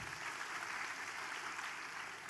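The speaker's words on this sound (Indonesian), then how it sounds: "Ayo tepuk tangan buat dia." A church congregation applauds at a Sunday service, giving steady, dense clapping that fills the room and holds at an even level throughout, with no talk over it.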